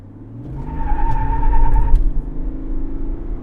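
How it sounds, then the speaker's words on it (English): A 2021 Chevrolet Tahoe Premier with the Duramax diesel, traction control off, brake-torques and launches: a deep engine drone rises with a steady mid tone, peaks loudly, then eases into a sustained rumble, with no talking. "Traction control off. Okay, let's brake torque it."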